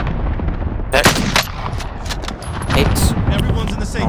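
Gunfire in Call of Duty: Warzone (Modern Warfare), with a DMR in play: a run of sharp, loud shots in quick bursts spread across the moment, while players talk over the shooting.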